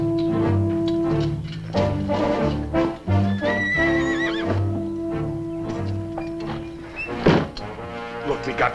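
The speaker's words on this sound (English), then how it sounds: "a freshly saddled horse." A saddled horse neighs and whinnies loudly and close in a 1957 Zorro television episode, with hooves and thuds mixed with music and voices.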